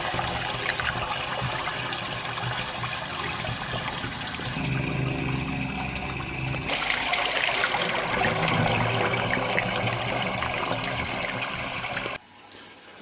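A toilet flush sends water rushing through a residential ceramic sewer pipe, a steady gush and trickle that shifts in tone partway through and cuts off abruptly near the end.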